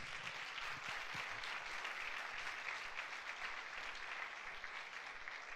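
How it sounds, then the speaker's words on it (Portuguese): A church congregation claps steadily in sustained applause, a dense, even patter of many hands from a sizable crowd that continues throughout. "Dê um aplauso a Jesus."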